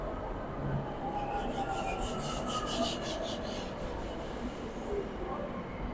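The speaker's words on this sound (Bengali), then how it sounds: "মেট্রো চলে এসছে" A Kolkata Metro train pulls into an underground station with a steady loud rumble and a high grinding, rasping squeal from the wheels on the rails, filling the whole stretch without a break.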